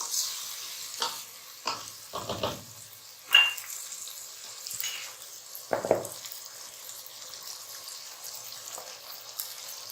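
Boiled rice for Singaporean rice is stirred and fried in a pan: quiet scraping strokes and soft sizzling come in scattered bursts over a faint background, with no talk.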